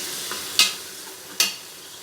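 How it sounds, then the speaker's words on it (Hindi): Ginger-garlic paste fries with fried onions in a pot, giving a soft, steady sizzle. Two sharp scraping stirs break through it, and no one speaks. "इसके अंदर मैं डालूँगी अदरक लहसुन का पेस्ट। थोड़ा सा फ्राई कर लेते हैं इसे।"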